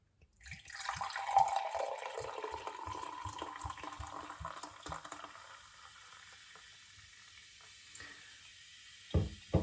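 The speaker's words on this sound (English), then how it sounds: "you might be able to hear the bubbles and see them as I pour this out for you" Fermented ginger and lemon drink poured into a glass, a steady fizzing, crackling hiss of bubbles swelling over the first few seconds and then thinning out, with a couple of brief clinks near the end.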